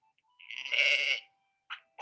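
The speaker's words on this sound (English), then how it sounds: "It's a sheep." A sheep gives one clear, wavering bleat lasting under a second, close and moderately loud, followed by two short fainter calls in a quiet setting.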